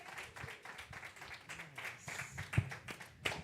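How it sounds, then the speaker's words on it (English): A church congregation at a Sunday service claps in scattered, fairly quiet applause, with uneven hand claps continuing for a few seconds. "Kamara and Rochelle, can we give them another round of applause?"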